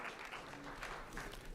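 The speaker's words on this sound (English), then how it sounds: "Let's have a round of applause for State Treasurer Steve McCoy" Audience applause for Georgia State Treasurer Steve McCoy at a financial inclusion summit keynote, a brief, dense, steady wash of clapping heard on its own.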